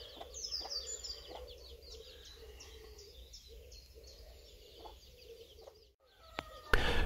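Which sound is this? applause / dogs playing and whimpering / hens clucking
hens clucking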